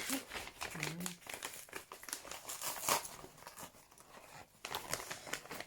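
A black paper envelope is torn open and handled by hand, giving close, crinkling and ripping bursts of paper in irregular clusters, with a short hum and soft breaths in the background.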